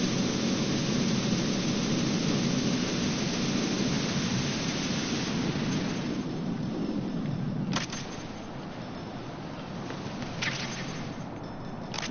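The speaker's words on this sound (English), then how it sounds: "It's raining sideways." Heavy rain and rumbling thunder from Metal Gear Solid 2 pour down in a steady, dense roar, with a few brief cracks near the end.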